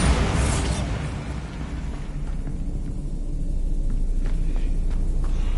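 The Bombarda blasting spell in Hogwarts Legacy lands with a loud, close burst, then rolls into a sustained rumbling wash of debris and echo that slowly settles.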